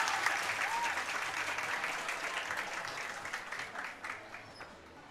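A crowd claps steadily at a men's 25 m rapid fire pistol shooting competition in Chengdu, with dense, even applause that holds close and fairly loud for several seconds before thinning slightly.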